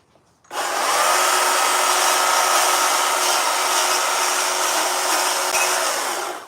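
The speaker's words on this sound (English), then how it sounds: "They talked me into battery chainsaws." A battery chainsaw carves wood for a big bear sculpture, its motor starting abruptly and holding a loud, steady, even whine for about six seconds before easing off, with no voices.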